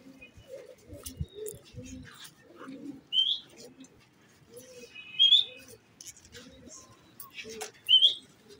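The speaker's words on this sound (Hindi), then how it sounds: "ये सामने कबूतर उड़ रहे हैं जी" Multan pigeons at a loft give a steady low rhythmic cooing, with a few sharp high chirps and squeaks rising over it at intervals, close and fairly quiet.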